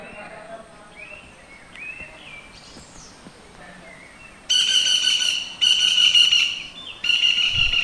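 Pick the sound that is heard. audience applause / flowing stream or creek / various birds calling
various birds calling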